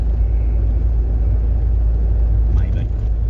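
A British Leyland Austin Princess engine idles steadily with a low, continuous rumble up close, smooth and even throughout.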